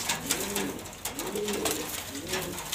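Pigeons coo softly nearby in three slow, evenly spaced rolling calls over a faint background hiss, with no talking.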